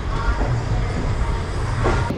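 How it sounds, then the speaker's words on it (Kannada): Steady interior rumble of the Mysuru–Talaguppa Intercity Express hauled by a WDP 4D diesel locomotive, a continuous low roar with faint rail rhythm throughout, no talking. "ನಮ್ಮ train Mysuru ತಾಲಗುಪ್ಪ intercity express ಟ್ರೈನ್ನ full ಮಾಡ್ತಿರೋ locomotive, the powerful locomotive WDP 4D"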